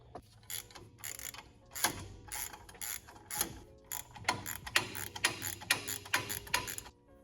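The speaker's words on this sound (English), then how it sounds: "So I've got my 1/2-inch ratchet ready," A 1/2-inch ratchet tightens a bracket under the loader valve of a late-1990s Kubota tractor, giving faint, close clicking bursts in short, uneven runs.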